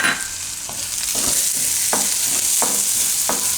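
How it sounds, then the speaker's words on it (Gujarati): Green garlic frying in a pan for bajra flour tikki, a constant bright sizzle broken by a regular series of scraping stirs, close and alone with no talk. "હવે આપણે લીલું લસણ નાખીશું."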